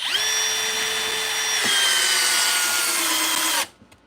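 A compact Dremel driver runs close up with a steady high whine for about three and a half seconds, then cuts off into near silence.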